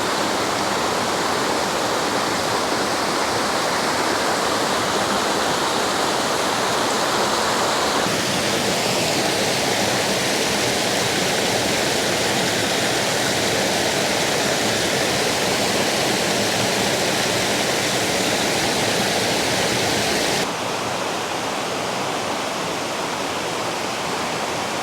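Cold water pours steadily out of an ice cave in Iowa scenery, a loud, continuous close rush of flowing water with a brief shift in tone partway through and no voices.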